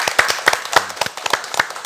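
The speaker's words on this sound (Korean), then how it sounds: "큰 박수 부탁드리겠습니다" Scattered audience clapping for a county council member and panelists at a public talk event, a small group's distinct hand claps at an uneven rhythm, fairly close and clear.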